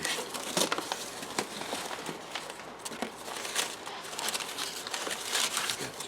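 Paper wrapping around a model car gift crinkles and rustles up close in irregular bursts of crackling handling noise.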